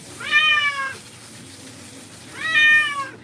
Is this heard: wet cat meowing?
yes